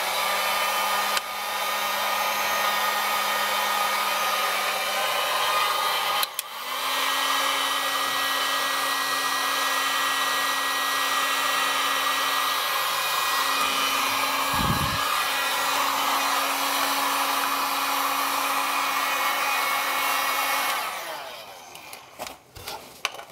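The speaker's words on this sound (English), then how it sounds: "we'll actually just hit it with the heat gun." A heat gun blows on heat shrink tubing over a crimped trailer brake magnet wire, a steady loud whooshing hum that stops for a moment, then runs on before cutting off near the end.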